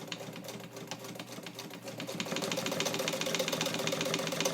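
Vintage all-metal Necchi BU Mira sewing machine, made in Italy and restored, running while back tacking: a steady mechanical whir with rapid needle clatter that grows louder and busier partway through, close up with no talk.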